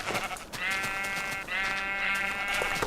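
Sheep bleat while being sheared in a farming video game: two drawn-out, nasal bleats in a row, close and clear over light background noise.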